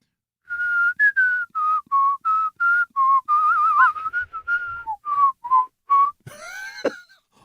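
A person whistles a tune alone, a clear sequence of short, evenly paced notes at close range, ending in a brief burst of other noise.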